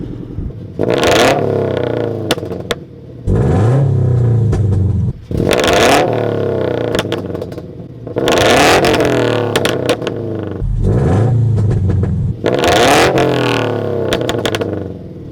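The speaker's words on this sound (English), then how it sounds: "#3 is an aftermarket exhaust." A car fitted with an aftermarket exhaust revs hard in repeated bursts, each a loud throaty roar from the exhaust that rises and falls, with short gaps between.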